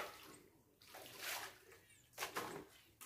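Water is poured into a cooking pot holding strained bamboo shoots and vegetables, giving a splashing, sloshing pour that rises and falls in a few bursts, close and moderately loud.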